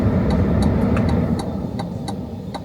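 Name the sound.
2027 Chevrolet Bolt car pulling out onto the road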